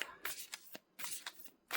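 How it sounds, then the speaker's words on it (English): A deck of oracle cards is shuffled by hand, giving several quick riffling bursts and soft slaps in an uneven rhythm, close and fairly quiet. "let me just give this a shuffle up"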